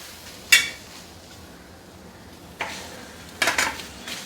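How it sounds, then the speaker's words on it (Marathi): Okra being stir-fried on an iron tawa, heard as a few sharp metallic scrapes and clinks of a spatula against the pan at irregular intervals over a quiet background, with no talking. "आता ही बघा भेंडी मी तव्यावर परतून घेते"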